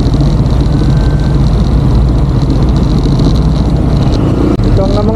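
A motorcycle engine runs steadily as a low, loud, continuous rumble with a constant drone, heard close up and without breaks.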